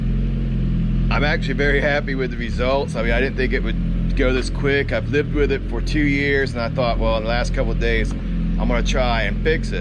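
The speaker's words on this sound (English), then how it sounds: "you can hear it idling now" A Suzuki GSX-R1000R motorcycle with a full exhaust idles with a steady low engine drone while someone talks continuously over it.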